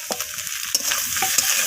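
Drumstick stalks fry and get stirred in a pan for a rohu fish curry, a loud continuous sizzle with scraping stir strokes and a sharper spatula knock midway.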